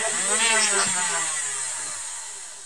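Small engine running at high revs, a buzzing whine that dips in pitch and gradually fades quieter as it winds down, close by.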